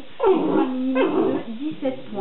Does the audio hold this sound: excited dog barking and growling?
yes